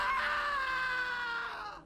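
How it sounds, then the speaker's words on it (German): An enemy in the video game Gothic 2 lets out a loud, sustained scream in the Nebelturm, a single drawn-out cry that slowly fades, heard alone without talk. "Jetzt hören wir wieder so einen netten Schrei."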